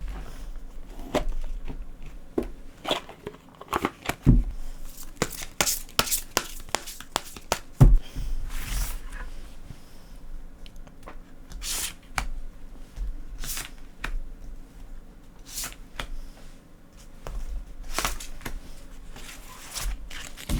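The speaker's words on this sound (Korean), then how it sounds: "그럼 카드 한번 같이 뽑아보도록 할게요." Tarot cards shuffled and drawn by hand at close range, crisp riffles and snapping slaps recurring in irregular bursts, with occasional light paper rustling and no speech.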